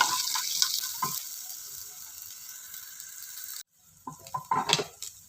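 Finely chopped onions with curry leaves sauté in a hot pan of oil for chole masala, a steady near sizzle that cuts off abruptly, then returns as scraping stirring bursts.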